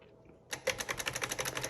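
The margin release on a 1957 Voss typewriter is pressed, then the carriage runs with a rapid, evenly spaced train of metallic ratcheting clicks, close and crisp, after a quiet start.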